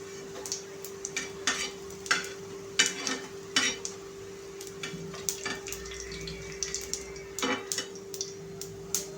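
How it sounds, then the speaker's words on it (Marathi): Coriander vadis lifted from a frying pan onto a plate, producing scattered light clinks and scrapes of a utensil against the pan and plate over a steady hum, with soft sizzling in between. "एक प्लेट घ्यायची आहे आणि त्याच्यामध्ये वड्या काढून घ्यायच्या"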